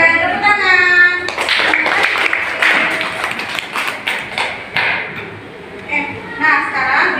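Schoolchildren in a primary science class in Bireuen, Aceh, clap their hands together in a loud, patterned burst of rhythmic claps and taps, with a voice speaking at the start and between clap groups.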